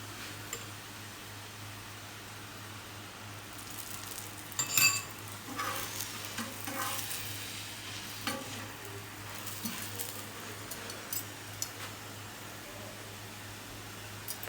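Besan roti fries in cooking oil in a pan, a soft, steady sizzle with small crackles and a few faint clinks of utensils against the pan, heard close up with no talk.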